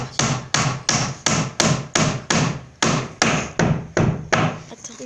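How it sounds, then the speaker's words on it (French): A hammer drives nails crosswise into wood while a raft is built: about a dozen sharp, loud, evenly spaced blows ring close by, with no voices between them. "Après on va commencer à clouer"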